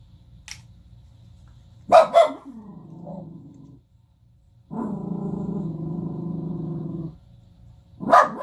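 A dog growls in low, rumbling bursts, with sharper barks and snarls breaking in between and a long sustained growl in the middle, close and fairly loud in a quiet room.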